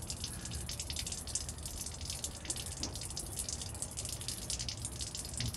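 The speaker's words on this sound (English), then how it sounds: "You can see how that a lot more water came out." Water running from opened RV faucets while the lines drain during winterization, a steady hissing, splashing flow with bright spitting bursts as air passes through, close and continuous.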